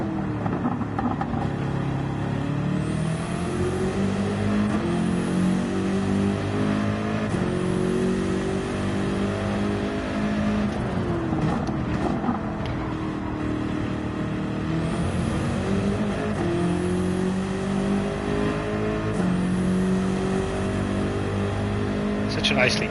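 A race car engine in Gran Turismo 7 on a Mountain time trial drones steadily, revving up and down through gear changes and braking for corners, while someone talks throughout.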